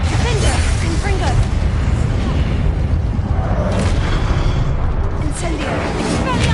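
Dense, continuous booming blasts of a fiery explosion spell in a wizard-themed video game, loud and sustained across the whole stretch with repeated bursts layered over each other and a voice shouting spell names in the mix.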